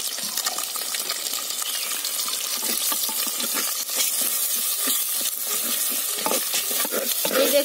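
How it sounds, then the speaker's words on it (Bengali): Two eggs seasoned with salt and chilli powder are stirred and scrambled in a hot pan, giving a steady close sizzle broken by frequent scraping and tapping strokes of a utensil throughout. "এই ডিম দুটোকে ভুজিয়া করে নেব।"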